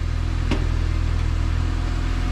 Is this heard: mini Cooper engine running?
yes